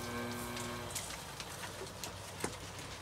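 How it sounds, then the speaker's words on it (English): Faint, steady patter of rain with scattered droplet taps over a low hum, no one speaking. "It's raining super hard here today. Probably will hear that in the background."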